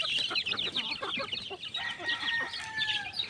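Hens cluck busily and continuously at close range while chicks peep in high, thin notes as they are given feed, a dense overlapping farmyard chorus.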